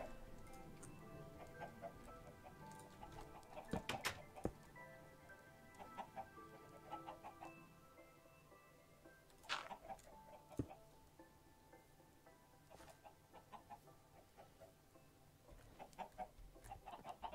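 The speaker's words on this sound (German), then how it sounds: "jetzt kommen ja noch Hühner rein" Chickens clucking in the Minecraft video game, scattered short clucks and clicky ticks repeating over a steady low background, fairly faint and without talk.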